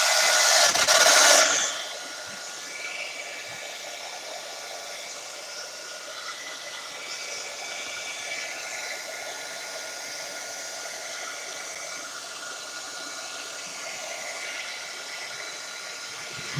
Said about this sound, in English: I'm going to take the heat gun hold of this one